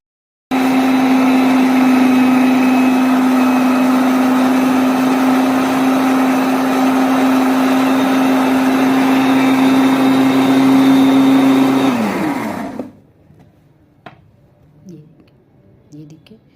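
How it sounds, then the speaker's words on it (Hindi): A food processor churns cultured cream into butter with a loud, steady motor whine that runs for about twelve seconds, then winds down and stops, followed by faint clicks. "उसको फूड प्रोसेसर्स में प्रोसेस करके उससे बटर बना लेना है"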